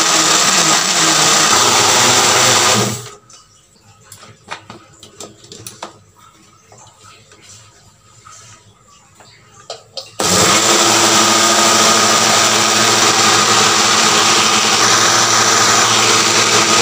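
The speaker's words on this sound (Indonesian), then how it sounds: "Blender tanpa menggunakan air agak susah teman-teman" An electric blender grinds garlic with no water added, running loud and steady for a few seconds, then stopping for a quiet stretch with light rattling, before roaring back on at full power.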